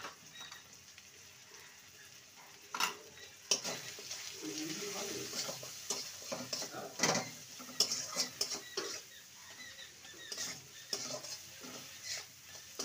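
Spices fry in a pan on the stove as a spoon stirs and clinks against the metal in scattered strokes, a soft sizzle underneath, fairly quiet and close.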